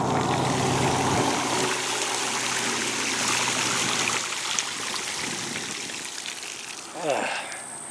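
A bicycle rolls slowly through floodwater on a swampy Florida rail trail, with continuous splashing and rushing water close by for most of the time, easing off toward the end.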